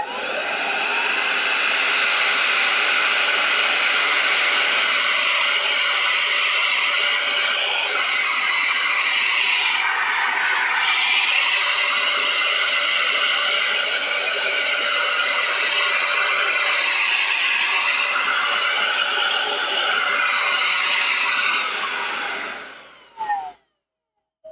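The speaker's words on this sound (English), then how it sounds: "This is not a quiet vacuum cleaner." A vacuum cleaner runs loud and steady at close range, its high whine holding nearly constant before cutting off abruptly at the end.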